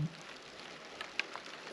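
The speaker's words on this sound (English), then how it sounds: "And it's starting to rain, so I don't even know if I'm gonna finish today." Rain begins to fall outdoors in the Arizona desert, a faint, steady hiss of light rainfall with a few distinct drops tapping nearby.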